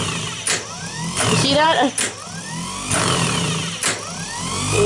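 A 1953 Chevy engine being restored cranks and turns over in repeated bursts, each with sharp clicks and a whirring rise, building toward running by the end, while a person speaks briefly over it.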